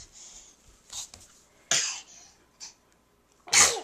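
A small child sneezes and coughs in short, sharp bursts with breathy snorts in between, close and clear, ending in one louder sneeze.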